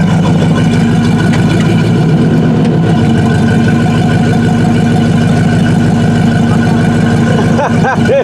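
V10 engine in a full-size Chevy K5 Blazer with a one-ton swap, running in drive, a loud, close, continuous low idle rumble with rhythmic pulsing throughout, steady with slight variation near the end.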